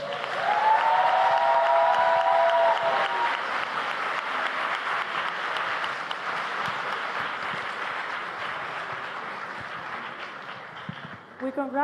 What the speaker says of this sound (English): Could we have one more round of applause for our grand finalists?